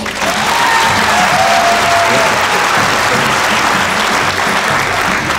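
A comedy show audience applauds loudly and steadily, a dense wash of clapping with faint cheering and crowd noise that holds through the whole stretch.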